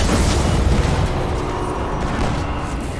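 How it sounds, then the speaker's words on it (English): Explosion in the video game Destiny, a loud, dense low rumble that fills the whole clip and slowly fades without a clear single blast onset. "explosion was more higher than I thought"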